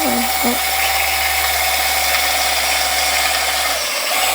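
Ratchet wrench turning an engine over to prime the oil pump, giving a steady mechanical whir with a constant low hum beneath it, close and continuous.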